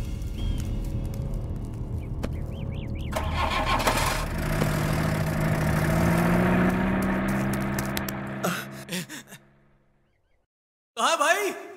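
A car engine cranks and starts, rumbling at mid pitch with voices nearby, then goes quiet before a short burst of sound at the end.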